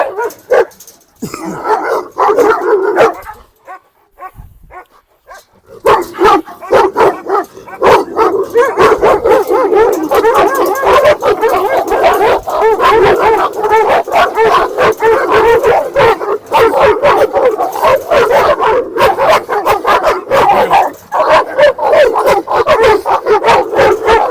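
Cane Corso dogs bark in rapid, loud bursts, a dense run of deep barks and yips close by with a short quiet gap early on, then continuous barking.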